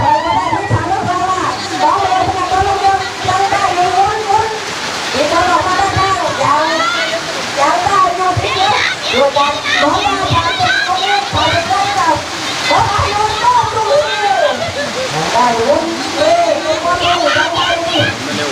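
Heavy rain pours down steadily in a dense, continuous wash during an outdoor women's football match, with a commentator talking excitedly over it throughout.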